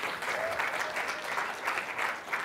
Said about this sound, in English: Yes, let's applaud this.